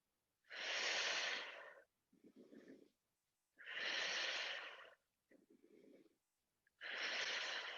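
Close, heavy breathing during a resistance band exercise: three long, forceful exhales alternate with shorter, softer inhales in a slow, even rhythm, with silent pauses between breaths.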